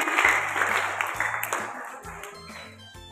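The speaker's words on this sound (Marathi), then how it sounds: "टाळ्या वाजवायच्या आहेत तिच्यासाठी" Applause rises for a seventh-grade student at a Marathi Language Day school event during a quick synonym round. A steady patter of clapping runs through the clip under a low tonal hum.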